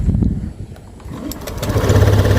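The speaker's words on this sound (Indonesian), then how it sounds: "Coba kita matikan terus kita starter biasa" A Honda Beat scooter, fouled by carbon-clogged valves, cranking on its electric starter and catching into a loud, close, buzzing engine note that settles into a steady run.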